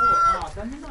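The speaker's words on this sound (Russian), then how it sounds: "Белый петух." A white rooster crows briefly at a village homestead, a short loud call partly overlapping with people talking.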